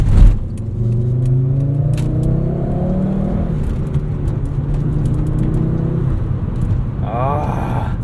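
A Volvo 850 R drives along with a steady engine drone and road rumble from inside the cabin, its pitch rising as it accelerates, with light rattling over the top and someone talking through much of it.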